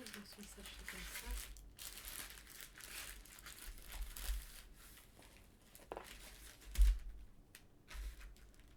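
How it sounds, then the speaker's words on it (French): Plastic bag crinkling as an AliExpress item is slipped back into its packaging, a close, faint rustle running through the clip with a few sharper crackles, under a steady voice speaking. "Je vais remettre dans son sachet comme ça."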